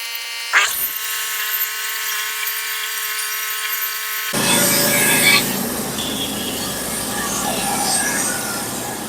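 A saw cuts through a wooden board in a woodshop, a sharp high-pitched whine at first, then a steady rasping, grinding cut that runs loud and close for several seconds.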